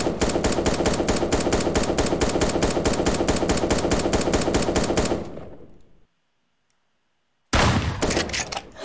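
Assault rifle fire in the online shooter game 1v1.LOL rattles in a loud, rapid, evenly spaced stream of shots for about five seconds, fades into silence, then resumes abruptly in another loud burst.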